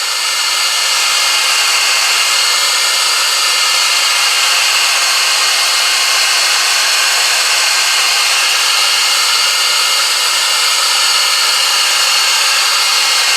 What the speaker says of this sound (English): So I'm going to turn my heater on like this. And then I'm going to heat the paint up.